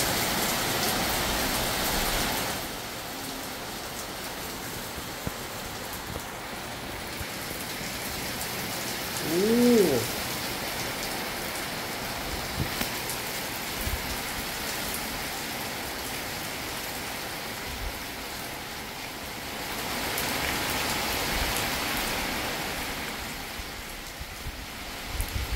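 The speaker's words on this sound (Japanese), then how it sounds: "滝のように降ってますね。" A torrential nighttime downpour roars continuously like a waterfall, loud and close, with the rain swelling in intensity at the start and again later on.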